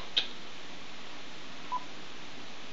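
A number is dialed on an old telephone, giving two short, separate beep tones with a quiet gap between them over faint line hiss, and no voices.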